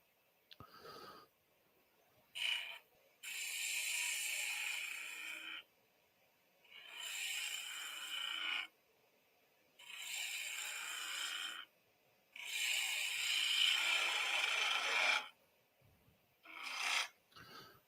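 A roughing gouge cuts a shelf into spinning wood on a lathe, several bursts of rasping shaving noise of a few seconds each, separated by quiet pauses, close and fairly loud.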